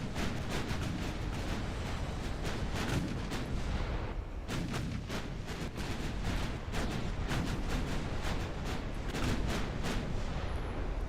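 Naval guns fire at cruisers in the Ultimate Admiral Dreadnoughts game, with repeated booming shots over continuous battle rumble, some landing in quick bursts, faint throughout.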